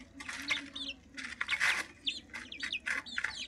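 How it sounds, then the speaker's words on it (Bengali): Several young cock-breed chickens cluck and squawk in quick overlapping bursts at close range while pecking at leafy greens, with a faint wing flutter and no talking. "তো এই মুরগিগুলো আসলে ব্রয়লার মুরগি ভেবে কেনা হয়েছিল, মানে বাচ্চা কেনা হয়েছিল, কিন্তু আসলে এরা কক জাতের মুরগি।"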